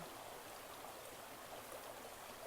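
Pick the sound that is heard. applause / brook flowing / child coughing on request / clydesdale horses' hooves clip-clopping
brook flowing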